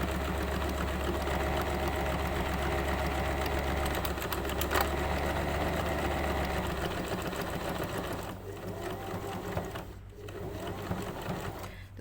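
A sewing machine stitches a zigzag buttonhole in fabric, a fast, even mechanical chatter of stitches running steadily up close before slowing and stopping near the end.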